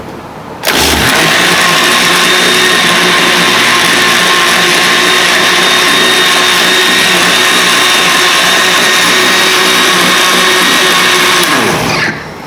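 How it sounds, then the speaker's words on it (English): A cheap blender running with water whirs loudly and steadily for about eleven seconds, starting abruptly and cutting off near the end, with a grinding, high-pitched drone. "this, again, is a very cheap blender, so it's going to spill a little bit."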